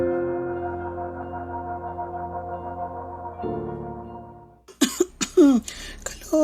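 An ailing older person coughs several times in quick harsh bursts, heard close after a sustained musical tone fades away.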